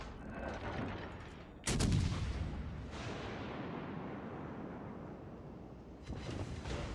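Video game gunfire booms in a big blast followed by echoing rumble and quieter distant shots, with a fresh burst near the end.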